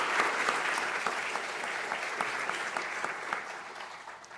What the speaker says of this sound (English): join me in thanking Professor Smets once again with a last warm round of